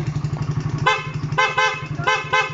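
PIAA dual horn fitted to a Raider 150 motorcycle sounds three short, loud honks over a steady idling engine rumble.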